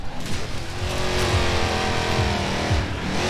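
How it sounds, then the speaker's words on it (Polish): A Dodge Hellcat's engine revs hard in Forza Horizon 4, a loud close roar that rises in repeated swells as the gears shift, with a hint of tire squeal. "na ile taki Hellcat jest dobrze odwzorowany"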